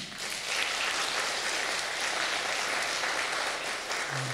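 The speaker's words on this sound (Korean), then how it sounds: "하나님께 감사와 영광의 박수를 올려드립니다." Church congregation applauding at a summer retreat worship seminar, a dense, even wash of many hands clapping in a large sanctuary, steady and fairly loud throughout.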